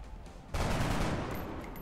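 A sudden burst of gunfire from an XCOM turn-based tactical battle cuts in loud after a quieter stretch and then rings out and decays over the remaining second.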